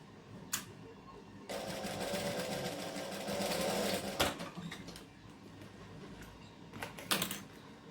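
Sewing machine stitching a shirt for a Burda 6840 pattern, a steady motor run of a few seconds in the middle with short bursts and clicks from handling around it, close and moderately loud.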